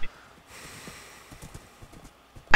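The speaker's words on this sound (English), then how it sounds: "Me and my trusty steed." Horse hooves clip-clop in Minecraft as a quick series of soft, light taps over a quiet background, with a loud burst at the very start and another at the end.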